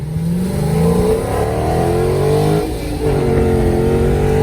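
A Ford Taurus SHO races a Dodge Challenger Scat Pack from a traffic light, its engine revving loud and close with rising pitch, a brief dip at a gear change, then another climbing pull.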